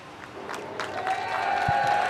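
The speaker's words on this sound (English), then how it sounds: "The cheer and just the energy right now is really cool." A crowd at a rallycross battle bracket final cheers and applauds, a steady roar of clapping and shouts that swells slightly, with a thin mechanical whine running underneath.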